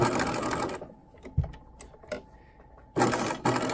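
A sewing machine stitches a patch pocket in two loud, steady bursts of running motor and needle, separated by a quieter pause filled with faint clicks and handling.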